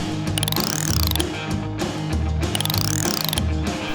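A toy screwdriver ratchets in quick repeated clicking bursts, paired with rising and falling whirring tones, loud and close with no talking.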